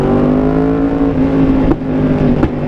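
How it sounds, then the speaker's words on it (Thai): A Yamaha R1M motorcycle with a loud aftermarket exhaust holds a steady, close engine drone, with two sharp pops cracking through as the throttle is blipped. "เสียงท่อกับเสียงตดของรถเนี่ย คือถ้าเราผ่อนใช่ป่ะแล้วเราแบบกระโดกกระโดกนิดนึงอ่ะ"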